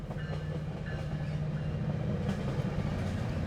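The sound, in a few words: train passing by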